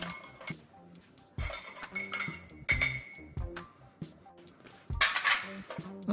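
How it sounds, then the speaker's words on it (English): A spork stirring drink mix in a mug for an MRE ration, giving close metallic clinks and scrapes against the mug in short irregular bursts, with no talk. "we'll give it a stir with the ForeignMRE.com spork"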